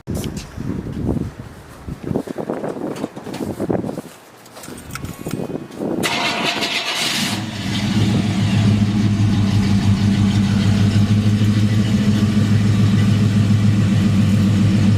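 Chevrolet C10 pickup truck, newly lowered, cranks over and fires up about six seconds in, then settles into a loud, steady, rumbling idle close by, after some earlier shuffling and clunks.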